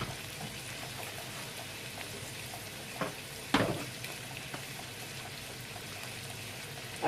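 Soy, ginger and garlic marinated salmon frying skin side down in a pan, a low steady sizzle with a couple of sharper spits or clinks partway through, no talking.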